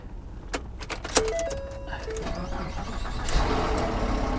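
A car from a salvage auction lot is cranked in an attempt to start its engine, with clicks and mechanical clatter followed by a rising whirring, rough crank that carries on to the end, fairly close.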